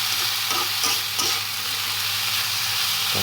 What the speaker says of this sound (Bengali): এটাকে আমরা হাই হিটে ২ থেকে ৩ মিনিট আবার কুক করে নেব